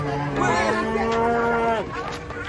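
A single long, low cow moo close by as the cow is unloaded from a truck, holding steady before dropping off, with faint background noise afterward.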